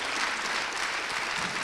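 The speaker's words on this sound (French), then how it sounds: "je vous remercie d'applaudir" Brief, steady applause from an audience at a French training-program event honoring participants, dense even clapping heard at a distance.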